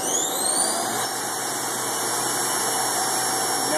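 Spindle of a Haas VF-1 CNC mill running up, a steady high whine rising in pitch at the start and then holding over a constant motor hum, loud and close.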